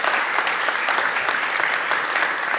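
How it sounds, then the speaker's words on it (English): Steady audience applause fills a Carthage Athletics Hall of Fame ceremony, a dense wash of many hands clapping at even loudness throughout, with no voices over it. "She deserves a round of applause."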